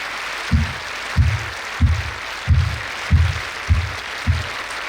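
A crowd claps at a parents' honouring ceremony during a Diksha Mahotsav in Bangalore. Steady hall-wide clapping runs under a regular, heavy low thump that repeats about seven times.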